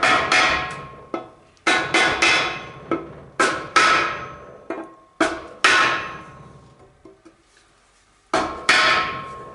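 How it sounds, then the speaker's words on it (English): A 2x4 taps a sprag race into a Chrysler 727 transmission, a dozen or so sharp, ringing wooden knocks in uneven bursts, loud and close, with a couple of short pauses between groups. "get you a 2x4 and lightly tap this Sprag race all the way in"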